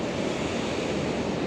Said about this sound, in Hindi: वहाँ से पानी गिरते हुए आ रहा है और नीचे मिल के देन नीचे की तरफ जा रहा है।